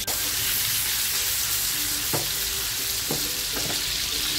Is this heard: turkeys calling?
no